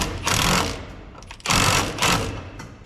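A power tool tightens a nut and washer on a 1951 Chevy truck during clutch and rear main seal repairs, giving two loud, close bursts of buzzing whir with a brief gap between them.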